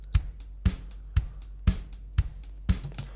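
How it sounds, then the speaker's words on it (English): A programmed drum beat with flat, unvaried MIDI velocity repeats a steady kick-and-snare pattern with hi-hats, each hit landing at identical loudness in a mechanical rhythm, with no talking. "I'll show you this drum beat and how it sounds really quickly."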